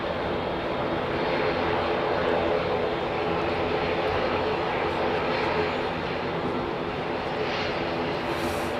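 Steady, loud drone of propeller airliner engines with carbon composite blades running nearby at London Heathrow Airport, a broad continuous roar with no breaks.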